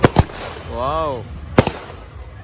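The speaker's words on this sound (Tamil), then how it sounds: "வெடிக்கை பாருங்கள் ஒன்று ஒன்றா வெடிச்சிட்டு இருக்காங்க" Festival fireworks crack in sharp bursts at the Gangai Amman temple festival in Vepur, Vellore, in 2025. Two quick close bangs come first, a voice exclaims, then another loud double pop follows.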